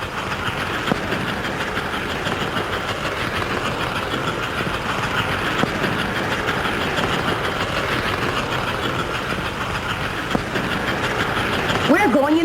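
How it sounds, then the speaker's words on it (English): An American Flyer model diesel train locomotive runs steadily along its track on a climbing grade, with a continuous mechanical whir and faint rail clatter. Talk and noise from the people watching sit underneath it throughout. "Watch that locomotive work."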